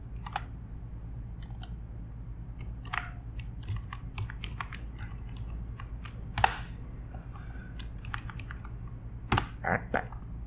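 Keys clatter on a computer keyboard as a command is typed, a quiet irregular run of close clicks and taps over a steady low hum.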